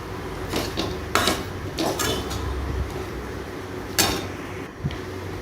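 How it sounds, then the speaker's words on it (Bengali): A spatula stirs a cumin-spiced mixture in a pan during Bengali home cooking, with a low, continuous frying hiss and several sharp metallic clanks and scrapes against the pan. "এইবার এটাকে আমি খুব ভালো করে একটু কষিয়ে নেব।"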